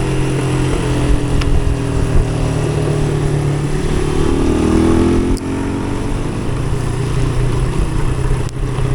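A small adventure motorcycle ridden on a gravel road through Lees Valley, New Zealand, on a wet, cold day, its engine droning steadily and loudly with tyre and wind rumble, no talking.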